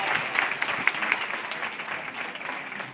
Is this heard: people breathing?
no